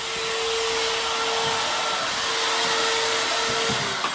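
A belt sander running in a loud, steady whine with a constant hum, close by and unbroken for the whole stretch.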